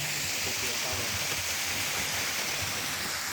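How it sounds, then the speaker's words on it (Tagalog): Santa Barbara Falls in the dry season, with the water flow weak, giving a constant broadband rushing and splashing wash that stays even throughout, heard close by. "Dito kami ngayon sa Santa Barbara Falls. Kaya to, medyo mahina na yung tubig"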